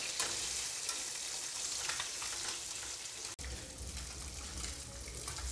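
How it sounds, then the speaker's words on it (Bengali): Pieces of katla fish fry in hot oil in a home kitchen, giving a steady, fairly quiet crackling sizzle with a brief cut partway through. "মাছের একটা সাইড ভাজা হয়ে গেছে, আমি ওটা পাল্টে নেব। ভাজা আমার মাছ কমপ্লিট।"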